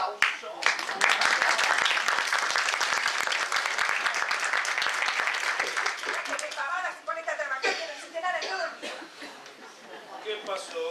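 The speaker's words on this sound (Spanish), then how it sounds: "Despidamos a las concursantes con un fuerte aplauso." Studio audience of a comedy show clapping loudly for departing contestants, dense applause mixed with laughter that thins out into scattered chuckles and voices toward the end.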